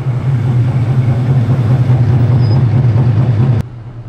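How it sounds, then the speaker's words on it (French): A Ligier JS P320 LMP3 race car at Magny-Cours drones steadily with a loud, close low engine note, then cuts off abruptly near the end, leaving a quieter rumble. "Là, on est sur une vraie voiture de course"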